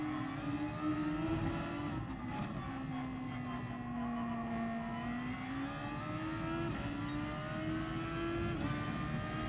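Race car engines in Gran Turismo Sport played in VR, a continuous loud engine drone with the pitch sliding up and down through gear changes and revving, with no talking.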